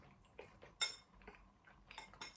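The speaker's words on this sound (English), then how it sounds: "I do recommend eating it with a knife and fork" A knife and fork cut into a plate of cannelloni Bolognese with pasta and cheese, giving faint, scattered clinks and scrapes of metal against the dish in a quiet room.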